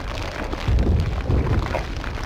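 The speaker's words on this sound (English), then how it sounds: "That's the sound of my bones crunching." Crunching, crushing noise as a video game character is squished, a dense low rumble with two heavier surges in the middle, loud and continuous with no voices.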